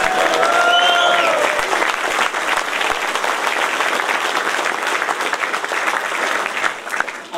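Sustained audience applause at an evening event with road racer Michael Dunlop, thick and even, with a brief whistle-like tone near the start and a slight swell toward the end.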